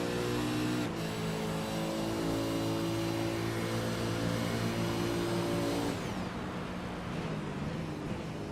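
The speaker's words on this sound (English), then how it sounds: "it really doesn't sound like Sebastian is fuel saving." Racing engine of a V8 Supercar in iRacing at Autódromo José Carlos Pace, a steady high-pitched rev with harmonic whine that holds loud and close, then drops in pitch near the end as the car lifts off.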